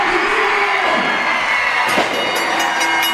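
A capacity crowd at a Six Flags wrestling battle royal roars and applauds in a dense, continuous wash of noise that stays loud throughout.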